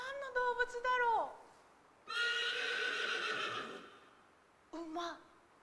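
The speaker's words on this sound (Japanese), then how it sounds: "馬" A horse whinnies loudly and clearly at the start, followed by a longer bright burst of sound and a short second whinny near the end, with no talking over it.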